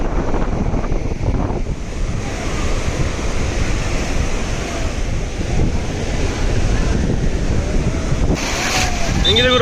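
Arabian Sea surf rolls steadily onto Honnavar beach, a loud continuous wash of breaking waves mixed with heavy wind buffeting the microphone.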